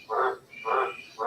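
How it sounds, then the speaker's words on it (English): Frogs croak at night after decent rain, three loud, even, pulsing calls repeating in a steady rhythm, close by and clear, with no voices. "the frogs are going well tonight"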